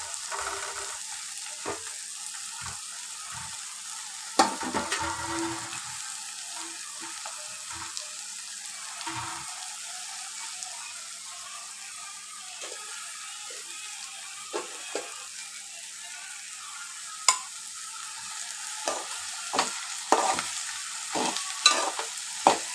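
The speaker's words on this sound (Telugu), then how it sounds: "గుడ్లను వేయించుకున్న ఆయిల్లోనే ఉల్లిగడ్డలు కూడా వేయించుకోవాలి." Onions frying in the oil left over from frying eggs, a soft steady sizzle with occasional stirring scrapes and clinks of a utensil against the pan, close and without talking.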